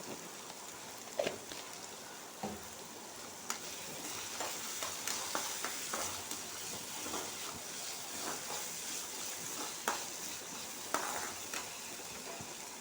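Vegetables sizzle and crackle in a hot pan, a steady frying hiss with occasional stirring clatters and pops, close up and without talk.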